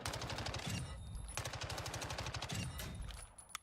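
SMG fire from the video game Call of Duty Warzone comes in rapid, evenly spaced bursts, with a short break between two long strings of shots and a closing pop.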